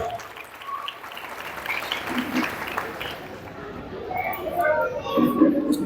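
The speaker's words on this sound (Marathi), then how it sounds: "त्यांच्यासाठी जोरदार टाळ्या एकदा होऊन जाऊ द्या" An audience at a community social-work gathering of women and elders breaks into a steady wash of applause that swells toward the end, with scattered voices mixed in.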